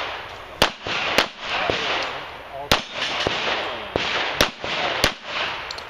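Gunshots on a shooting match stage: about eight sharp, loud reports at irregular intervals over steady outdoor background noise and faint voices.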